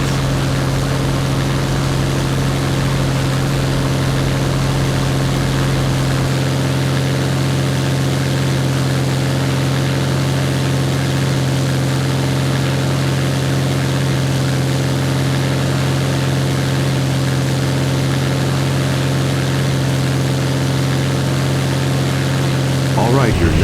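Douglas DC-3 propeller engines taxiing in Flight Simulator X, a steady loud droning hum with strong low tones throughout, the lowest rumble dropping away partway through.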